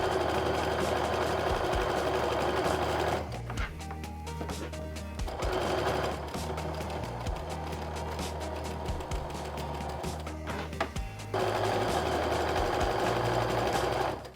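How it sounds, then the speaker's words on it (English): A sewing machine runs in long steady bursts as quilt rows are stitched together, a close mechanical whirr that stops briefly twice between runs. "I'm going to sew the other side and get these rows together."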